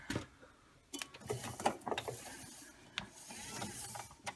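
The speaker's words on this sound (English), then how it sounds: "Belt is turning both directions." A Servis M6011S washing machine motor drives its belt, giving faint mechanical clicking, rattling and whirring in irregular bursts. The drum area is rusty. The sound is quiet and close, with no voices.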